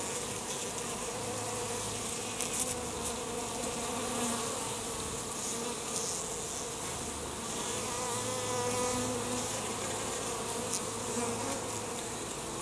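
Honeybees drone in a constant, close buzzing swarm during a hive inspection, the hum steady throughout with no voices.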